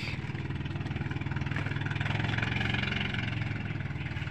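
A fishing boat engine off Bantayan Island runs steadily at close range, a low rhythmic idling chug that holds an even pace throughout with no voices over it.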